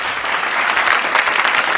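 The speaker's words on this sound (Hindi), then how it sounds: "जोरदार ताली के साथ स्वागत करी भोजपुरिया सिनेमा के नामचीन अदाकारा अक्षरा सिंह के" Studio audience applause welcoming a Bhojpuri cinema actress onto a televised singing competition stage, steady dense clapping filling the whole moment without pause.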